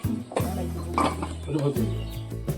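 A lid goes onto a cooking pot with a couple of metallic clinks and scrapes, mixed with a ringing pot tone and faint kitchen clatter, while a voice talks over it.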